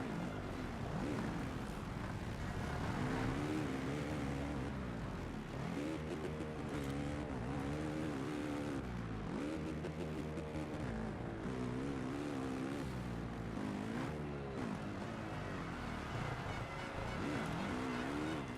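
Motocross motorcycles race in the MXGP PS4 video game, engines buzzing and revving continuously with constant pitch swings as bikes accelerate and shift, a dense unbroken roar of game engine noise throughout.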